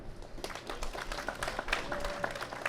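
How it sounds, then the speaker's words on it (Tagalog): Wedding guests applaud the newly presented bride and groom, a steady patter of clapping from a moderate crowd that runs throughout, with faint voices mixed in. "Mas lakasan pa po natin yung palakpak po natin."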